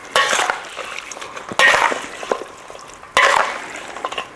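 Chicken being stirred with vinegar and spices in a bowl for Trinidadian stewed chicken, three wet, squelching scrapes in a regular rhythm, close and fairly loud.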